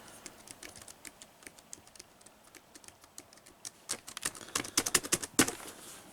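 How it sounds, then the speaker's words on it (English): Keys clatter on a computer keyboard, starting as light sparse taps and building into faster, louder bursts of typing near the end. "I typed that, but that was with the internal keyboard."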